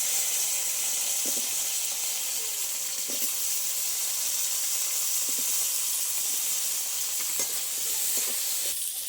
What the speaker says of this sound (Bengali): ঢেঁড়সগুলো ভাজতে দিয়ে দেবো।